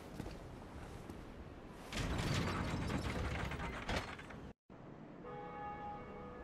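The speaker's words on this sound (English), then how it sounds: "Ah, the gracious sound of bells." Bells ring in the video game Dark Souls, with a loud metallic clanging burst in the middle, then a brief cut to silence followed by softer sustained ringing tones.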